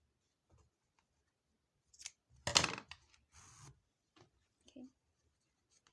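Scissors snip through crochet yarn while a handbag is being made, giving a short, close crisp cut among a few light handling clicks, with quiet pauses before and after.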